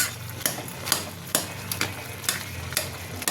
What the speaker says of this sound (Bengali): ঘেঁটে দিচ্ছি একটু